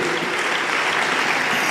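Church congregation at a Sunday general worship service in Pampanga claps together, a brief, even wash of many hands with no talk.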